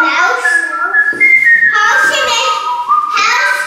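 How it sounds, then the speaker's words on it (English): Young child whistling close up, a few wavering tonal notes rising and falling between short pauses, with brief child vocal sounds mixed in. "He's whistling."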